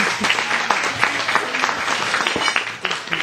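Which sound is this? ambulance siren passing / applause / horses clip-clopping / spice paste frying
applause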